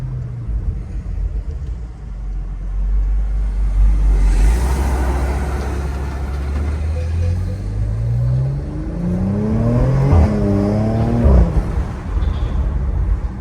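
Porsche Macan Turbo, 440 hp, in Sport Plus mode, its engine rumbling and climbing through revs, then crackling with a few exhaust pops and burbles as the pitch sweeps up and down.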